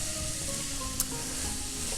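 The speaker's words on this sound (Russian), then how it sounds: "Периодически помешиваем свеклу, чтобы она могла протушиться" Soft steady sizzling of beetroot simmering in a pan for borscht, with faint scraping of stirring and a brief clink partway through.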